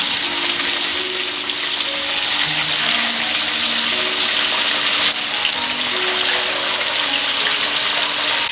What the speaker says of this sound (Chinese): 油温大概150度下鱼片